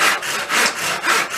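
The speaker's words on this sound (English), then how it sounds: "So I think this end I'll just nip off a little tiny section, just use my little saw." A small hand saw cuts through cherry wood being trimmed for pen making, with close, steady back-and-forth rasping strokes in a quick rhythm of about three strokes.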